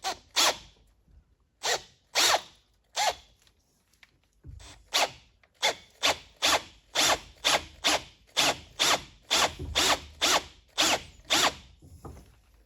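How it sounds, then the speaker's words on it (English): A drill bores out the top engine-mount shaft of a motorbike (a postie bike), enlarging an 8 or 9 mm hole to take a 10 mm bolt, in short repeated close bursts that grow steadier and more regular, with no talking. "drill out this shaft here, this engine mount at the top"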